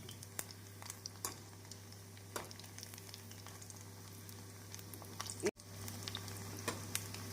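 Urad dal vadas fry in hot oil with a faint, steady sizzle and scattered soft pops, quiet and close throughout.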